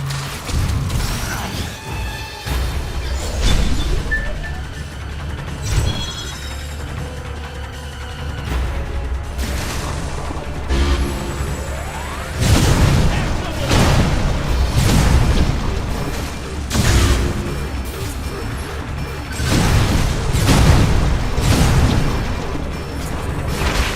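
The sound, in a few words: missile explosions in video game Metroid: Other M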